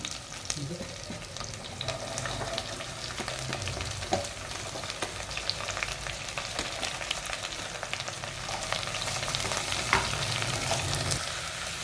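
Chopped onions dropped into hot oil in a pan sizzle and fry steadily for the whole stretch, loud and close, with occasional stirring scrapes and clinks.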